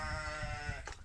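A sheep on a farm in Lambokambos, Peloponnese, Greece, gives one wavering bleat close by, ending quickly, with no speech.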